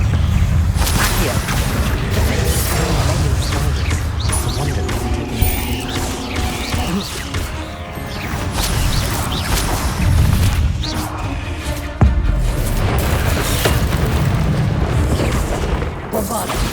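Bombarda and Confringo explosion spells cast in the Hogwarts Legacy video game, loud repeated booming blasts and crackling impacts with mechanical clatter, dense and continuous combat noise.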